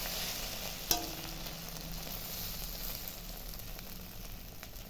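Egg omelette frying in oil in a pan, a steady broadband sizzle held throughout with a single sharp clink or tap near the start, no talking.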